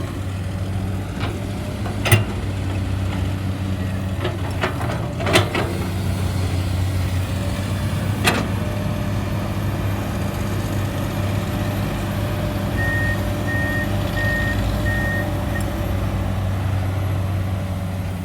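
A Komatsu PC200-8 excavator engine runs at a steady deep rumble, close and continuous, with a few sharp metallic clanks early on and no talk.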